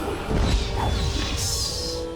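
An enemy shatters in Dragon Age: Origins with a loud smashing crash and a thwack, followed by brittle ringing debris and a high hiss.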